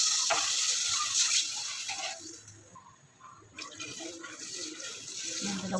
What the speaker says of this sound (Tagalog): Lagyan na natin ang tubig.